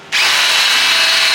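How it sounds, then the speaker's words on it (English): A power drill suddenly starts up and runs with a steady, loud, high-pitched whine, grinding into metal during a van build without pause. "Could have probably done with a smaller drill bit to start with."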